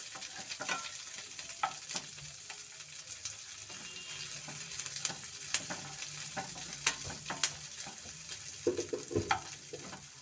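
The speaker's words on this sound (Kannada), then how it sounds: "2 ಕರಿಬೇವು ಹಾಕ್ಕೊಳ್ಳೋಣ. ಇದು ಚೆನ್ನಾಗಿ ಸ್ವಲ್ಪ ಫ್ರೈ ಆದರೆ ಸಾಕು." Curry leaves and chopped onion fry in a pan for pepper chicken, a faint steady sizzle broken by scattered clicks and scrapes of stirring, with brief running water in the background.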